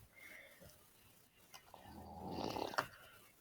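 A person snoring nearby, slow rough breaths building into a louder snort-like snore toward the end, fairly faint in a quiet room.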